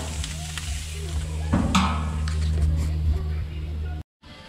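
Chuck roast steak sizzling on an outdoor grill, a steady crackling sizzle over a low droning hum, with a brief burst of handling noise partway through before it cuts out near the end.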